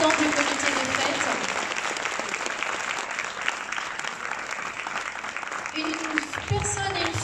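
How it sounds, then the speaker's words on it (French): Sustained crowd applause in tribute to the president of a village festival committee, a dense, steady wash of clapping with a voice speaking over it near the start and again toward the end. "Et je voudrais ce soir qu'on l'applaudisse très fort"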